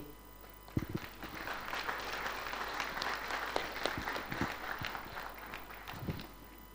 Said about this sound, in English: Another round of applause for the First Lady of the Central African Republic